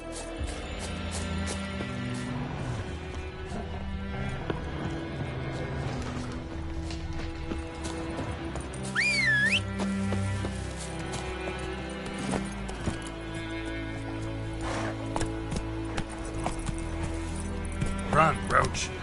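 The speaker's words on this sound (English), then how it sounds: "Run, Roach" Hoofbeats from a horse galloping in The Witcher 3 video game, a rapid clip-clop rhythm under game music and effects, with a short rising whinny-like cry midway.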